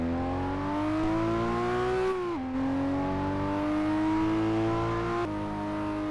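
A loud JDM car engine in Test Drive Unlimited revving and pulling through gears, a strong harmonic drone climbing in pitch, dropping sharply at each shift near two and five seconds, then rising again, close and continuous without talk.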